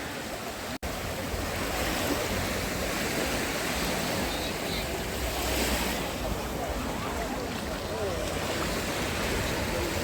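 Sea waves roll onto the beach at Odesa's 10th Fontan station, shallow water, as a continuous broad surf roar with wind buffeting the microphone, loud and constant after a brief sharp knock at the start.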